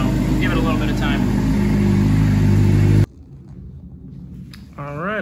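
A cold engine idles steadily while warming up, a loud, even mid-range rumble for about three seconds before cutting off abruptly, leaving quieter background noise and a brief voice near the end.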